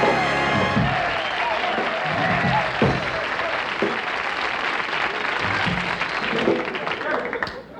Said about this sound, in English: I don't think we can follow that applause